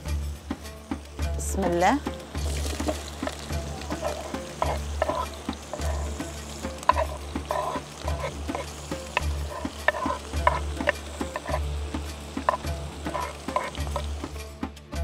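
Onion fries with meat in a pan, giving a steady, close sizzle with repeated scraping from stirring and a low hum underneath, while someone speaks briefly.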